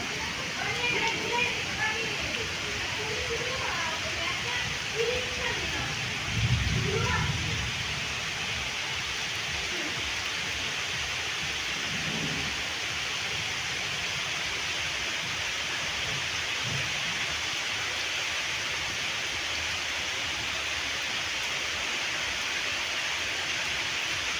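Heavy rain pours down during a monsoon low-pressure spell, a dense, steady hiss throughout, with voices talking now and then beneath it.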